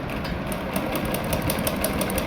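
A sewing machine runs steadily while stitching a sleeve, a continuous close mechanical whir with a fast even rattle of needle strokes and no talk over it.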